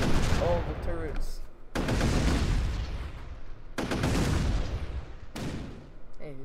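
Tank shots in the Shell Shock Live video game boom in a series of loud, sharp blasts, each trailing off, with a voice speaking briefly early on.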